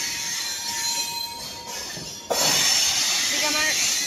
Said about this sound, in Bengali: আর সেই মালগাড়িটা ক্যাচ ক্যাচ আওয়াজ করতে করতে যাচ্ছে।